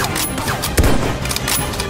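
Gunfire in a large-scale Minecraft war game, a loud burst of shots with a sharp crack in the middle of the clip, heard close over constant background noise.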